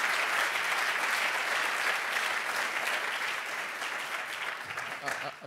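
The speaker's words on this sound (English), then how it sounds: "We have another huge round of applause for our two candidates, Toni Preckwinkle and Lori Lightfoot." A large audience at a mayoral candidates forum gives sustained, loud applause for two candidates, Toni Preckwinkle and Lori Lightfoot, a dense steady wash of clapping that eases slightly toward the end.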